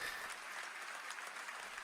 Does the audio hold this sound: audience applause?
yes